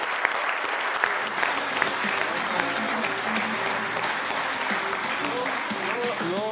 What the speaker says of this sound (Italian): un applauso a tutti i dirigenti della storia